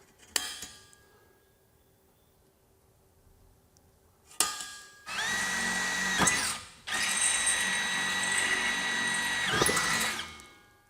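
A few sharp metallic knocks of a center punch, then a power drill whines loudly in two long bursts as it bores through a metal hand cart, close up with no talking.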